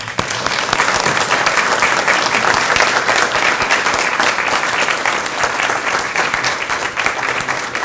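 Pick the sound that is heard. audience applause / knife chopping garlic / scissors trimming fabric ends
audience applause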